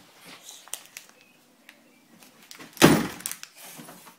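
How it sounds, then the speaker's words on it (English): An indoor door at home is pushed shut with a single solid thunk midway through, set against faint scattered household rustles and quiet room noise. "Let's shut the door."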